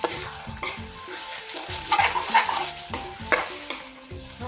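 Fermented fish pla ra being stirred with fish sauce as it fries, with loud close metal-on-pan knocks and scrapes in an uneven rhythm over a crackling sizzle, no talk.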